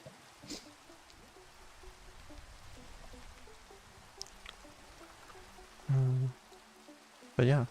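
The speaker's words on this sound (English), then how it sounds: "I hate the rain." Rain falls in a modded Minecraft world as a faint, steady soft patter and hiss. Two brief louder bursts come near the end.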